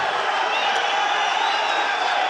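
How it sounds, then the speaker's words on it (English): An arena crowd roars steadily at a Petr Yan versus Magomed Magomedov MMA bout, a dense, loud, continuous wall of cheering with no breaks. "The crowd going crazy here for this amazing bout between these two men."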